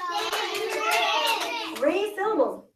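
Children clap out the syllables of a word in a classroom lesson, a quick run of sharp hand claps keeping time with their young voices as they say the word aloud together.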